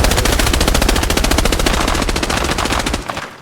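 Automatic weapon fire from the Arena Breakout Infinite shooter game: a loud, fast, unbroken stream of shots for about three seconds, then a sudden stop with a short fading tail.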